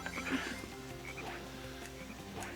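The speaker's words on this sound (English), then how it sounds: "There's a frog over there." Frogs in the Frog Forest stage of Sonic Heroes croak in repeated short calls over a layered, tonal ambient backdrop of game music and forest sounds.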